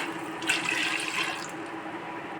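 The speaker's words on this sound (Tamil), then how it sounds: "இப்போ நான் வந்து ஃபஸ்ட்டு பால் இதில் விட்டுக்கிறேன்" Milk being poured into a pot while making vermicelli payasam, a continuous close splashing liquid stream lasting a couple of seconds, ending with a brief clatter.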